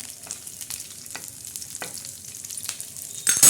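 Sliced onion frying in oil in a pan, a continuous close sizzle punctuated by soft scraping strokes of a spatula, with a louder clatter right at the end.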